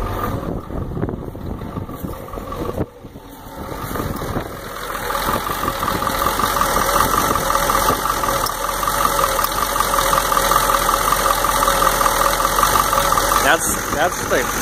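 A 1993 Ford F-250 pickup with a 7.3L IDI diesel idling roughly, close and loud with a continuous clattering rumble that swells after a brief dip near the start.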